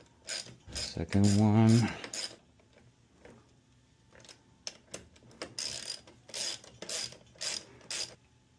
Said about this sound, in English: So using the 7/16 wrench, we tight those screws back in place.